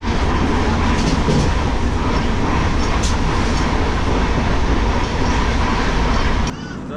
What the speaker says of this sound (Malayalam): അങ്ങനെ ഞങ്ങൾ സമ്പർക്കക്രാന്തി എക്സ്പ്രസ്സിൽ കയറിയിരിക്കുകയാണ് ഗൈസ്.